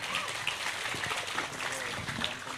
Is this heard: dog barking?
no